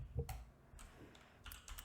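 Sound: typing on a computer keyboard

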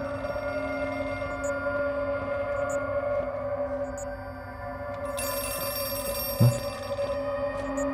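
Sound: telephone ringing in video game Outlast 2

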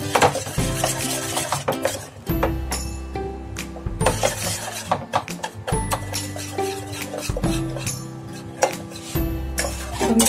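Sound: caramel cooking and being stirred in a pan

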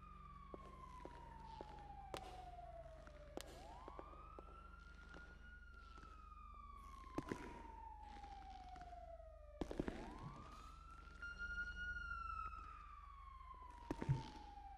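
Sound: police car sirens in GTA V video game

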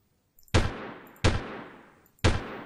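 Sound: enemy gunfire in Delta Force 2 video game

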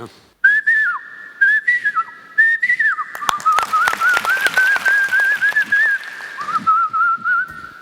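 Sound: imitated Asian koel call

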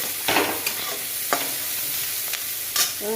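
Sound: green chilies and onion frying in oil

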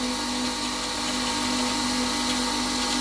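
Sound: grinder sharpening a wood turning chisel in a jig

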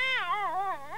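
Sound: cat meowing

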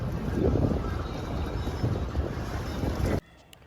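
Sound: houseboat moving on the water in Alappuzha, Kerala

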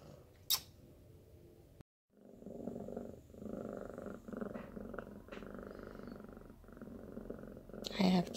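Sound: pet cat purring

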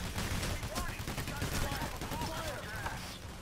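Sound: gunfire including sniper shots in Payday: The Heist video game

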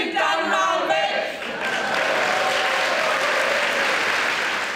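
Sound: audience applause after a theatre play

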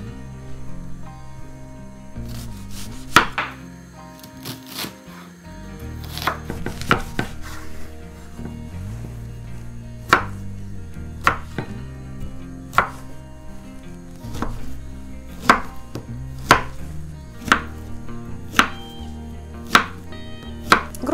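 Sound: chopping pear and onion into cubes

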